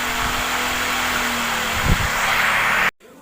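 A 12-volt DC fan, converted from an AC fan and driven by a 555 IC speed controller, runs at full speed with a loud, steady whirring hum that cuts off abruptly near the end.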